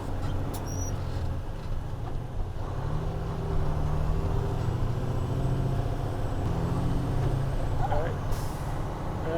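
Truck engine with a 10-speed gearbox being shifted up, a loud low diesel rumble whose pitch steps up partway through, with brief air hisses and a short chirp near the end, and a voice talking underneath.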